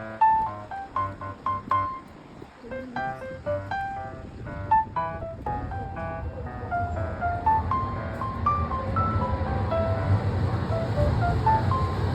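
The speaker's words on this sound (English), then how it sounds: "So finally, the tram is here." Tram 9 pulls in: a run of bright chiming tones gives way to a low, swelling rumble of the approaching vehicle.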